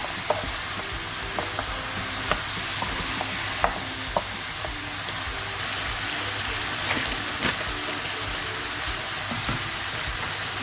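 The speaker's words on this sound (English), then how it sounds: "Stir for a few more minutes." Pasta is stirred in a pan over a steady background sizzle, with occasional light taps and scrapes of the utensil scattered through the long stretch.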